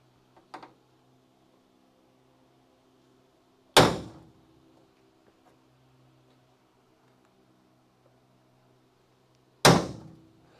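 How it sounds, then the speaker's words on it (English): A steel punch hammered into spot welds on an old Dodge Charger crew cab body during restoration, two sharp loud metallic strikes several seconds apart with a faint tap before, otherwise quiet. "I'm making an indentation in the center of the spot welds for my spot weld bit to pick up on"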